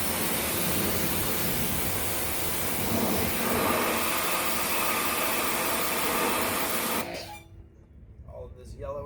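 Water spray rinsing a car tire, a loud continuous hiss of the stream lasting about seven seconds before cutting off abruptly, leaving quieter background sound.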